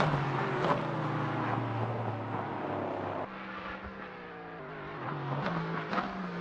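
LMP3 race car engine howling at Silverstone during an overtake, a continuous loud motor note that shifts pitch midway as cars pass, heard from trackside with a steady roar throughout.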